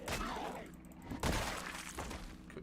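Zombies in Project Zomboid banging on a building, heavy thuds and crashing impacts in quick bursts, loud and close, with a sharp smashing hit near the middle.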